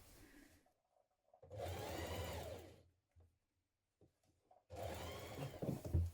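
A sewing machine stitching a shirt sleeve seam runs in two steady bursts of about one and a half seconds each, close and clear, with a short quiet pause between them.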